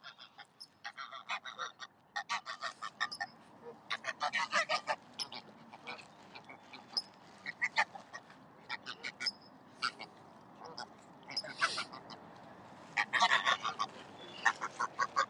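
Geese and ducks at a lake honk and quack in repeated, irregular bursts close by, with the calls sometimes clustering into loud noisy flurries and a little faint background voice between them.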